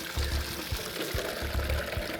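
Hot spring water in a volcanic city pours and splashes continuously from an outlet, a close, steady gushing stream with no talk.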